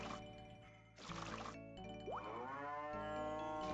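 Cartoonish cattle moos from the farming game Harvest Moon: Grand Bazaar sound in a few short calls over soft, tonal game music and small chimes.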